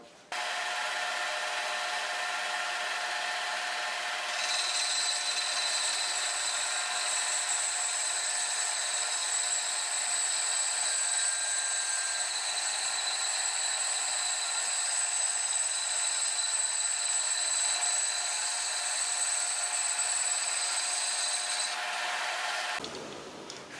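A 36-inch walnut board is fed through an index table saw, giving a steady, loud machine whine with a sustained high tone for most of the cut, constant and uninterrupted before stopping abruptly.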